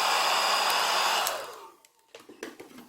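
A hair dryer blows steadily on a silver clay ring with a loud, even whoosh for over a second, then is switched off and winds down, leaving light handling clicks and taps.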